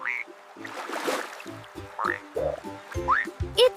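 A frog calls in a series of short croaks and chirps, mixed with rising whistle-like notes, against a faint steady background hum.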